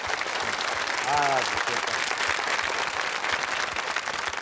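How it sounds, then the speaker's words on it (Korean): A television studio audience claps for Korean Army soldiers on a KBS variety broadcast, a steady wash of applause throughout while a voice briefly speaks over it. "여러분 박수 한번 보내주십시오."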